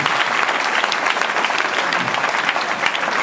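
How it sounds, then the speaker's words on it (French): Dense, lively applause from an audience at a tenth anniversary event, a continuous close burst of many hands clapping. "Donc on peut l'applaudir même s'il n'est pas là."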